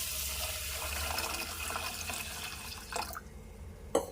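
Moong dal and sago being washed together in water, with running and splashing water heard steadily and up close before it tapers off near the end, followed by a brief clink.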